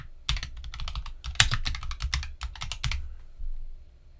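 Rapid, crisp keystrokes rattle on a computer keyboard while notes are typed into a Google Sheets invoice, close and clear in uneven bursts, then trailing off into a couple of lighter taps.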